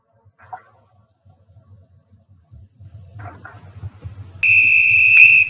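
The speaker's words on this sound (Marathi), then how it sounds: "एखाद्या वेळेला हा पोलीस अशा प्रकारे वाहने वगैरे थांबवण्यासाठी शिट्टीचा वापर करतो" A police whistle used to stop vehicles gives one loud, sustained shrill blast near the end, after quieter low rumbling and a couple of faint indistinct sounds.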